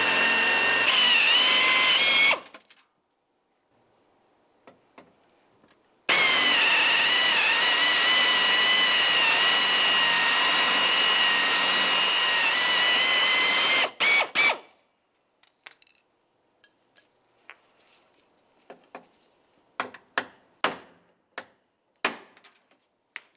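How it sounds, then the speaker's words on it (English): A 3/8 drill bit bores off a bolt head inside a car door during power window motor and regulator replacement on a 2003-2011 Mercury Grand Marquis, with two loud sustained whining bursts, then scattered clanks and ratchet clicks. "We'll drill off the head."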